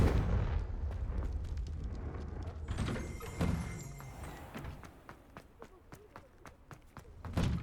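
In Hogwarts Legacy, a Confringo fire spell bursts with a loud blast, followed by a string of sharp crackling impacts and combat thuds amid game background sound, with no speech during the effect.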